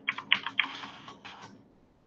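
Fingers type on a computer keyboard in a short burst of quick, close, crisp key clicks that thin out and stop after about a second and a half.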